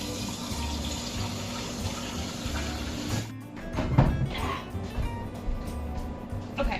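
Warm tap water runs into a measuring cup for bread dough, a steady noisy pour that is briefly interrupted and then resumes with splashy, uneven filling sounds in a home kitchen.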